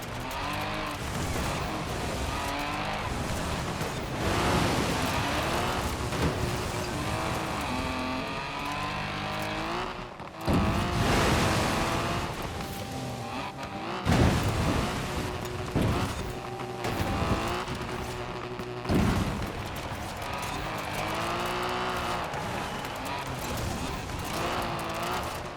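A Mazda Miata races in Forza Horizon 4, its engine revving and shifting through rising and falling pitch sweeps, with brief tire squeal and other cars nearby, while a person talks over the game audio.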